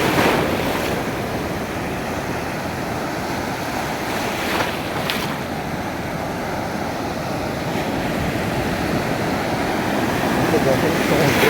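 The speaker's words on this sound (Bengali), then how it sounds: "দেখেন সমুদ্রের উন্মত্ততা।" Rough surf pounds the beach at Cox's Bazar, a loud continuous roar of surging waves mixed with heavy wind buffeting the microphone.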